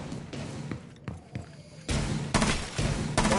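Gunshots in the tactical shooter Rainbow Six Siege, on the Burnt Horizon map: a few quieter thuds early on, then loud, close bursts of fire with short gaps between them.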